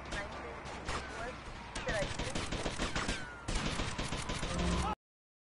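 Rapid gunfire from the video game Vice City, bursts of automatic shots crackling densely and continuously, with a voice talking over the shooting.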